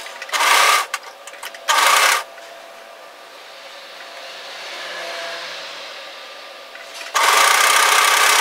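A sewing machine stitches a cardigan seam in three loud bursts: two short runs near the start, a quieter pause with faint rustling, then a steady run at the end.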